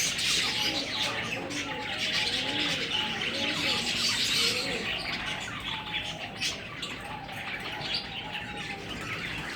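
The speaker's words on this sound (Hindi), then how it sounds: "इस कौवे ने आजकल मेरा इतना दिमाग ख़राब किया हुआ है ना" Birds call outdoors, with a crow near a home among them, giving repeated cooing and chirping phrases at moderate distance over a steady background hiss.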